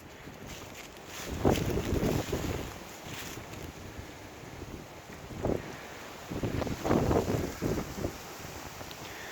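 Wind gusting through an oak and hornbeam forest outdoors, with rushing bursts that rise and fall over broadband noise and some microphone buffeting, no talk.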